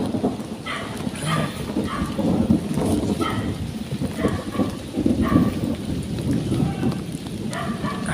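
Heavy rain pours steadily with rumbling thunder on a rural path. A dense, loud wash of falling water continues throughout, with low rolling rumbles and a few faint brighter sounds in the background.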